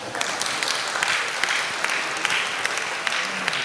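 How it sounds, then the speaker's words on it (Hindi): An audience at a Hindi comic poetry gathering claps together, a dense, steady round of applause with scattered sharper individual claps, moderately loud and continuous. "ताली बजा दो एक बार।"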